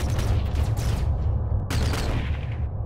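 Spaceship weapons fire in the sci-fi strategy game Executive Assault 2, a dense burst of booming shots and rumbling blasts, loud and close, with a brief cut midway before the barrage resumes.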